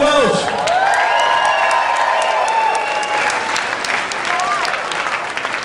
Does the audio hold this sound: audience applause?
yes